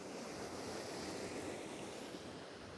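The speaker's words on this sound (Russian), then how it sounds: "Смотрите, какой напор идет сильный." A garden irrigation hose releases a strong flow of water in a steady, broad rush that sounds close and loud with no breaks, with some wind buffeting mixed in.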